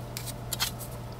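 Several quick, crisp snips of regular scissors cutting through a thin metal tin can, close and sharp, in an uneven rhythm.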